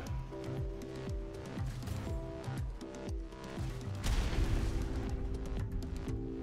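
Swivel gun fire aimed at a dragon in the game Atlas: a rapid series of booming, echoing shots, loud and close, continuing through the stretch.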